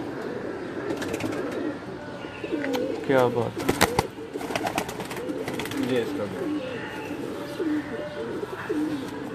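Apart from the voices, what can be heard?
pigeons cooing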